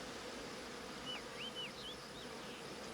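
Bees buzz steadily in an outdoor scene from the 1991 film Fried Green Tomatoes, a dense continuous drone with a few faint chirps passing over it.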